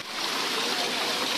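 Water pours steadily from the 108 stone spouts at Muktinath temple in Mustang, Nepal, a close, continuous broadband rush that holds at an even level for its whole length, with nothing else breaking through it.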